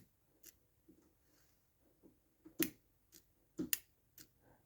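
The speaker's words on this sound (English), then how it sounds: "So if you listen for the click" Caterpillar RP12000E generator electronic fuel shut-off solenoid clicking, a few short sharp clicks, two louder ones near the end, close and quiet with no talk.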